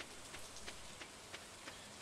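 Rain falls in the farming game Stardew Valley as a faint, even patter with soft periodic ticks, steady and distant, with no voices.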